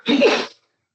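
One sharp sneeze during a finance committee meeting, loud and close, lasting about half a second before silence.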